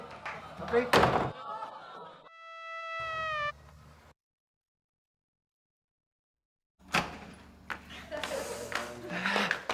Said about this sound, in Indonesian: Suara pintu kena angin.